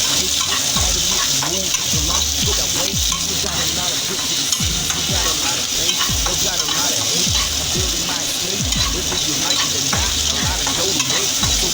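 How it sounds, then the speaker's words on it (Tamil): Garlic and dried red chillies for chutney sautéing in hot oil, a steady loud sizzle with a spatula scraping and stirring in a repeated rhythm, no voices. "பூண்டு, வரமிளகாய், போட்டு நீங்கள் நல்லா வதக்கிக்கோங்க."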